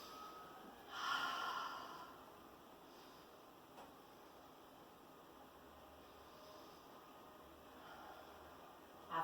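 Deep breathing during a morning hatha yoga pose, one audible slow inhale-exhale near the start followed by faint, quieter breaths against a soft steady background hiss.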